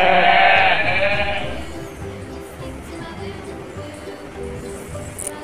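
A goat gives a single loud, wavering bleat over the first second and a half, then only quiet background noise remains.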